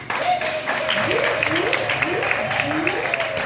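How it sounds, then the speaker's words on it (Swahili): Church congregation clapping for Jesus during a Swahili worship service, a steady wash of many hands with cheering voices and a preacher's rising chant-like calls over the top. "Pigie Yesu makofi."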